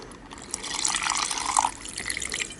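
Green copper chloride solution is poured into a paper filter, producing a close, trickling splash that swells and fades over a couple of seconds, with no talking.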